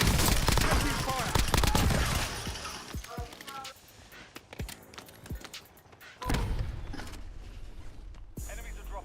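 Video game gunfire crackles in dense, overlapping bursts of shots and impacts, loud and close. It thins out in the middle, then swells again. Voices talk over parts of the fighting.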